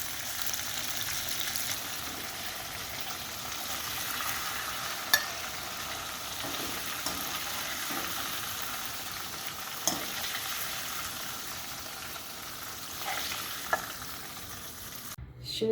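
Köfte meatballs frying in a pan, a continuous close sizzle and crackle with a few sharp clicks as they are turned.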